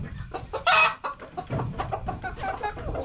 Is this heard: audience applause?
no